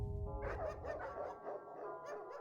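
Dogs in the adventure game Mystery of the Druids bark in a quick run of yaps at moderate distance over a low rumbling backdrop.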